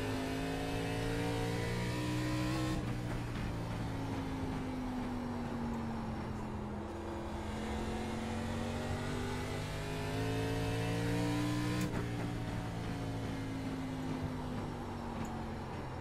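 Race car engines drone steadily while lapping an oval in iRacing. The sustained, close, loud engine note rises and falls in pitch with shifts and throttle, with no talking.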